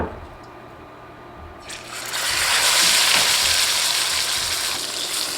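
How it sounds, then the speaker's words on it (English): A sous vide sirloin roast, cooked at 132 degrees, is laid into a hot pan to sear. A quiet start gives way to a loud, broad, steady hiss of sizzling that continues to the end. "So we should be able to get a nice sear on this without overcooking it."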